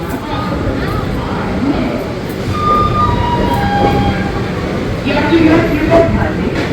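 A train pulls out from platform 2 of a railway station at night, a steady loud rumble and rattle filling the space while a public-address voice carries over it.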